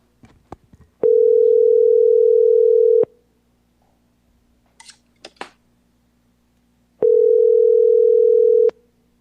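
A telephone dial tone sounds in a city council meeting while a public commenter is called in. Two loud, steady tones of about two seconds each come between scattered clicks and handling noises.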